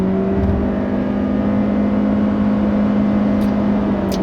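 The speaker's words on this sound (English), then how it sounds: "you will have to deal with that constant engine drone" Steady hard-acceleration drone from the CVT powertrain of a 2017 Honda Accord Hybrid, a constant loud whir held at one pitch inside the cabin with no speech.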